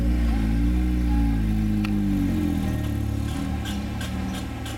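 An Acura RSX engine running through a newly fitted exhaust, revving up with a rising pitch, then falling back into a steady, slightly rougher idle-like rumble, loud and close, with no talking.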